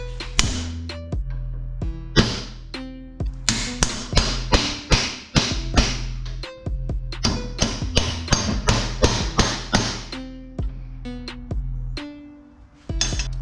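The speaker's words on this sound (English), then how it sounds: "put it in the vise, tap it with a hammer and a flathead" Repeated sharp metallic taps of a hammer striking a flathead screwdriver against a part held in a vise, a steady series of close, ringing hits with brief pauses between bursts.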